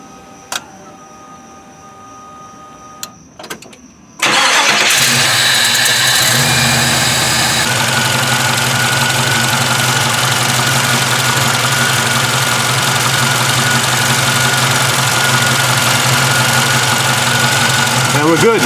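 A car engine cranks and catches at about four seconds, then settles into a steady, loud idle that runs to the end, with a brief rev just after starting. Faint clicks come before the start, and no one speaks.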